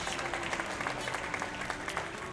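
Applause sound effect on a Zelda Tears of the Kingdom speedrun stream: a short burst of dense, steady clapping from many hands, heard alone and fairly loud.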